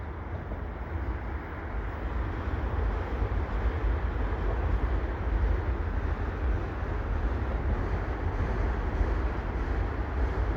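A continuous low rumble of a slow CPKC manifest freight train led by an ES44AC locomotive departing Dorval, steady and droning with no distinct clatter or horn, fairly close.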